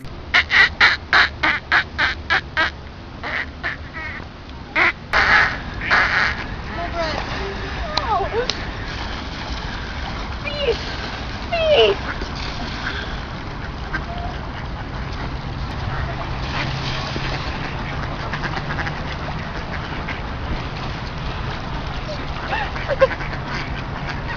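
A burst of loud, rhythmic quacking from several ducks, followed by ongoing scattered quacks and squawks over a busy, noisy background.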